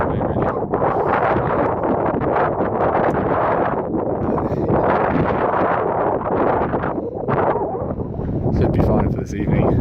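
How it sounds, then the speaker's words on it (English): Strong wind buffets the microphone on an exposed moorland campsite in north Dartmoor, a loud, continuous roaring rush with gusty surges throughout. "You can feel the wind if I step just a few steps further back."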